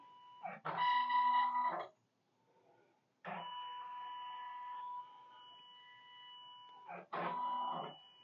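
An embroidery machine's camera scans a throw blanket before stitching. Loud buzzing, tonal machine bursts rise and stop, and a long steady hum runs for several seconds between them.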